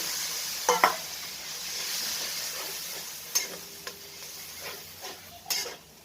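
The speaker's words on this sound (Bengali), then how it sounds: "মৌরিটা একটু ভালো করে নাড়াচাড়া করে আর এই জলটাও ওখানে দিয়ে দিচ্ছি" Fennel gravy for a rohu fish curry being stirred in a pan, with a quiet simmering sizzle under scattered sharp spoon clinks and taps against the pan and a splash of water going in, close and without speech.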